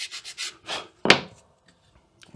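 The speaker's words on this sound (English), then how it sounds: "So a little bit more tuning with the sanding block." Wood being sanded by hand with a sanding block, a series of short rhythmic rubbing strokes followed by one louder scrape, then near silence, close and clear with no talking.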